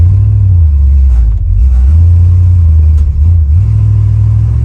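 Old Dodge pickup with a big-block 400 V8 and carburetor, driving along: a loud, steady low engine drone that dips briefly as it shifts or eases off, then pulls back up, with no talking over it.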